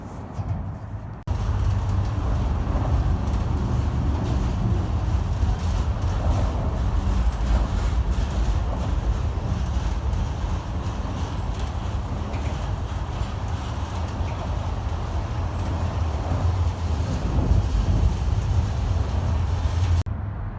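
A train sits in a rail yard in Pasco, giving off a steady low rumble and mechanical drone that starts abruptly and holds evenly, fairly close, with no voices.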